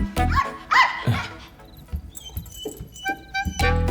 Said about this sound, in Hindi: दूर से देखकर ये भौंक रही थी